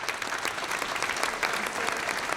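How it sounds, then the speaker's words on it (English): Applause from an office crowd in a TV drama sending off Chuck, a dense, steady burst of many hands clapping at moderate volume with no talk over it. "Let's give him a hand."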